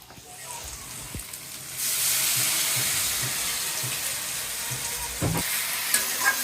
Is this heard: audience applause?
no